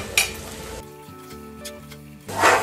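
Water poured into a hot pan of Bengali pea curry (motorshuti torkari) hisses in a sharp, loud sizzle that fades, leaving a quieter steady tonal hum, then flares up again in a second loud burst at the end.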